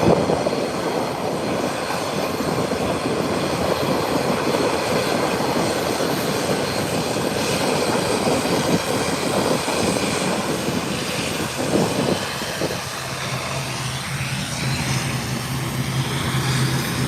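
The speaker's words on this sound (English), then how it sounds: "ATR 43 coming in" ATR turboprop airliner landing at Howard Hamilton International Airport drones steadily for the whole stretch, a loud broadband roar that drops slightly near the end as the engines settle.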